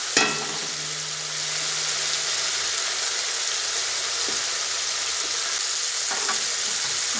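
Cut potatoes dropped into a hot pan with a little water for a Bengali cabbage and pea dish, a short clatter at the start, then a steady bright sizzle and hiss of frying with faint stirring.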